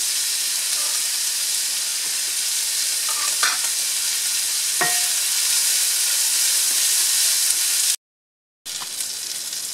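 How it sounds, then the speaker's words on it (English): Peppers frying in a pan for a cheesy lasagna with homemade beef and mushroom sauce, giving a steady, even sizzle and hiss with a few faint clicks of stirring and a brief cutout near the end. "We are adding the peppers"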